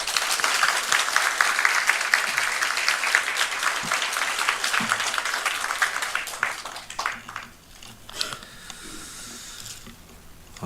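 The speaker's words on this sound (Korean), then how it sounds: "우리 큰 박수로 맞이하겠습니다" A church congregation gives a warm round of applause to welcome a new pastor, the clapping full and sustained before thinning into scattered claps and fading out.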